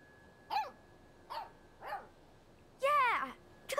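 A dog barks in the video game Life Is Strange 2, giving four separate barks spread over a few seconds. The fourth bark is the loudest and longest, and a short fifth sound cuts in at the end. No one talks.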